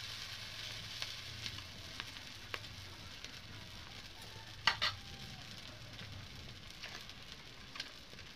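Oil sizzles steadily in a pan as food fries, a continuous soft crackle with occasional sharper pops and a brief louder spatter midway, with no voices.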